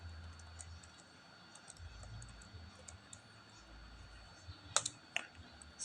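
Quiet clicks of a computer keyboard come in short irregular bursts at a desk, with a couple of sharper key taps near the end and a low hum underneath.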